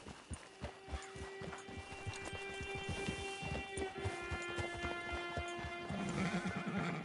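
Rhythmic clip-clop of hooves with a long, sustained horse whinny and a low steady hum underneath, in Red Dead Redemption Online.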